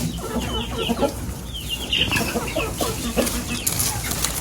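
Chickens cluck repeatedly close by, short throaty calls overlapping from several birds, with some scuffling in the background.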